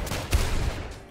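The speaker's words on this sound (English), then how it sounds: "Cap, your exploding bullets are a problem." Exploding bullets fire in the video game Rounds, a quick burst of several sharp popping blasts in about a second, moderately loud with no talking.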